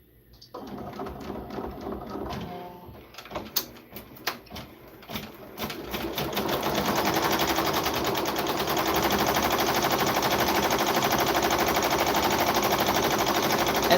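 An embroidery machine stitches an appliqué patch. A few sharp mechanical clicks and knocks come first, then a loud, steady, rapid needle chatter runs on without a break. The sound is close and there is no talking.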